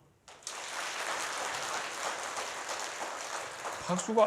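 Audience applause at a church service, a sudden burst of many hands clapping that starts at once and holds steady, moderately distant, with a few voices near the end.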